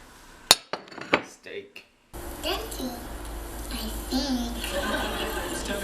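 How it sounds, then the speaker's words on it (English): Sticks strike a cast iron skillet in a quick run of sharp metallic clanks, five or six hits within about two seconds, followed by someone talking over household background noise. "More sticks on the cast iron skillet."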